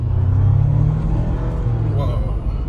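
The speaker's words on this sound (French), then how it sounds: "Et là j'accélère." A Jeep Wrangler hybrid running in fully electric mode accelerates, heard from inside as a loud, steady low rumble of road and drivetrain noise with a faint whine building toward the end.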